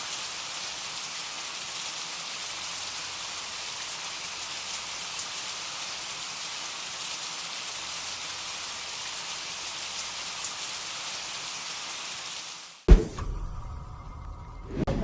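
Steady, dense rain falls and patters on surfaces for most of the stretch, a continuous even hiss close by, ending abruptly in a sharp whoosh and a quieter, different ambience.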